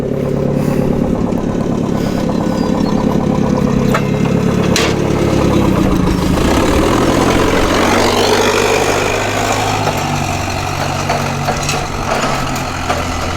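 A Nissan 30 forklift engine runs loud and close, chugging steadily at idle with a rough rhythmic pulse while the lift raises a person on its forks.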